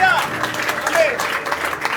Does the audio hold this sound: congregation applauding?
yes